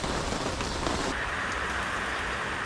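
Rain falls steadily outdoors, a soft continuous hiss of drops on surfaces, faint and unbroken with no voices.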